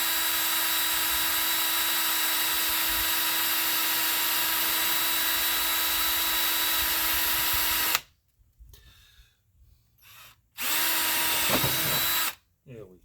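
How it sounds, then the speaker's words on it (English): A power drill bores a hole for mounting lights on a hunt buggy, a loud steady whine for about eight seconds, then a pause and a second shorter burst. "we're gonna drill one hole right there."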